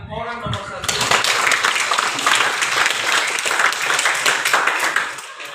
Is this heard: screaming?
no